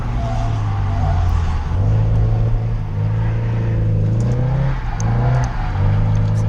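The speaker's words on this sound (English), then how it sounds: "Clutch kick, reinitiate. It's actually drifting." Nissan S14 drifting at a drift event, its engine droning loud and steady with a deep rumbling note that rises and dips as the throttle comes on and off through the slide, no voices over it.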